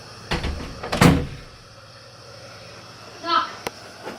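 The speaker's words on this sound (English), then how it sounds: "You gotta knock on the door" Knuckles rap on a home bathroom door, a couple of sharp knocks close together and one light tap later, with a voice briefly heard between them.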